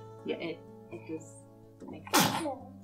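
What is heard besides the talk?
sneeze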